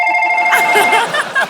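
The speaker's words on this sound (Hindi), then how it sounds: "मेरा फोन है। अच्छा अभी बजा है वो लोग।" A telephone rings with a steady electronic ringtone on the set of The Kapil Sharma Show comedy program, then continues under laughter and chatter as people talk over it.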